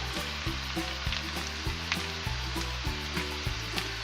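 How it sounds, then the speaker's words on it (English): Potatoes frying with a sprig of rosemary in hot oil, making a dense, steady close sizzle with light crackles and periodic low knocks, heard alone without speech. "I have a beautiful sprig of rosemary that I'm going to add to the potatoes to fry it up with"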